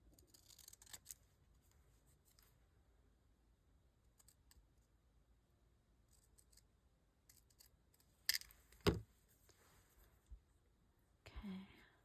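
Scissors snip through paper pieces for page embellishments: a few quiet, isolated cuts, with a sharper pair of snips near the end, set against a near-silent room.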